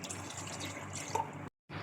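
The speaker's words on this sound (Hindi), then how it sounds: "अब मैं इसमें पानी ऐड करूँगी" Water added to fried yogurt masala in a pressure cooker, a soft steady pour that cuts off abruptly near the end, fairly quiet with no talking.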